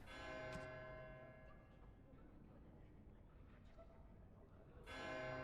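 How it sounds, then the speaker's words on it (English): A church bell rings in the game Dragon Age: Origins, with two bright resonant strikes, one near the start and another near the end, separated by a low ambient hum. "Who is in charge of ringing the bell in the church?"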